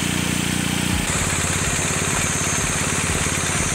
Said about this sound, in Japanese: エンジンを始動するとツインらしいスポーティーなサウンドを奏でます。